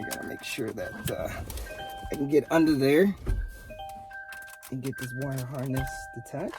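Inside a 2022 Kia Sorento, a warning chime beeps in a repeated, evenly spaced pattern while someone talks over it at close range.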